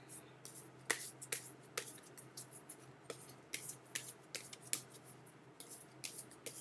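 A deck of playing cards handled up close, with scattered sharp little snaps and flicks at an irregular pace over a faint steady hum.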